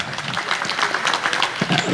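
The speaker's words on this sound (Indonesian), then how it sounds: "Tepuk tangan." Audience clapping at a thanksgiving gathering for a simultaneous rice-planting event held with volunteers; dense, steady applause fills the two seconds at a fairly loud, close level.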